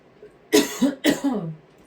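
Two harsh coughs in quick succession, close and loud, after a brief quiet moment.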